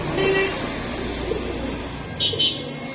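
Pigeons, including Giribaz and racer breeds, coo softly in low, murmuring calls over a steady background hum, with faint distant traffic.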